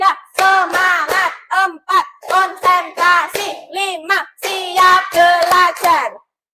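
A classroom group of children claps in rhythm while chanting loudly together, sharp hand claps punctuating a string of short, energetic shouted phrases close by.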